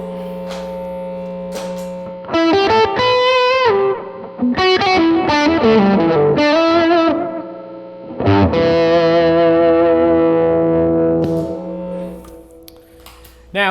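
A distorted electric guitar plays lead phrases through a delay pedal on a minimal setting, with notes trailing off into soft echoing repeats between bursts of playing.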